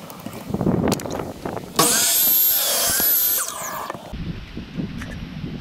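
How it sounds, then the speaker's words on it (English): A power saw cuts wooden boards into 13¾-inch sections for a rustic lift-up-top coffee table, making one loud, steady, high-pitched whine of about two seconds between quieter workshop noises. "that's what I'm gonna do now, is start cutting out my sections"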